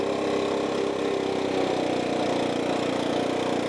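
A Stihl 4-Mix small engine runs steadily at a high, buzzing idle during carburetor adjustment, loud and close with an even drone and no talk.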